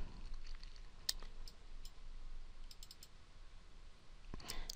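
A computer mouse clicks a few times during music software work, faint sharp isolated clicks spaced irregularly over a quiet background hum.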